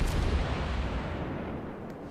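Naval gunfire and shell impacts in World of Warships: a sustained low, rumbling boom with a heavy onset that slowly decays, no talk over it.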